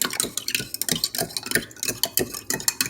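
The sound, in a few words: stirring a mixture with added sugar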